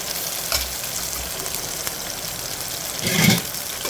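Ginger, garlic and green chilli frying in a pan for a spicy raw banana curry, giving a steady close sizzle with a brief louder burst of stirring and spluttering near the end.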